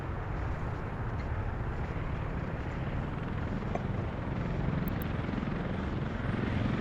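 Helicopter flying in the city-building game Workers & Resources, ferrying passengers to an island: a steady, continuous rotor and engine drone held at an even level throughout, with no talk over it.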